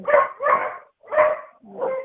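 Dogs barking inside a house where three dogs live: four loud, close, rough barks in an uneven rhythm, the last one softer and more whining, with no talk over them.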